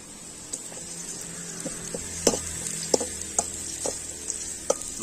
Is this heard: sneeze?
no